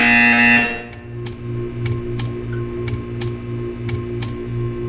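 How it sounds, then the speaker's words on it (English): A loud electronic buzzer in Portal 2 blares for a moment and cuts off, leaving a low hum with faint periodic ticks. "You will hear a buzzer."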